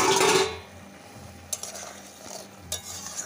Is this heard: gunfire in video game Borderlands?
no